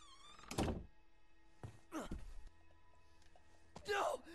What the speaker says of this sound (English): I just heard the door just get broke in.